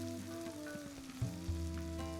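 Ginger, garlic and chili paste sizzles and fries steadily in hot oil with lightly browned onions for a chicken and potato curry, a continuous close crackle with a couple of louder stirring bumps.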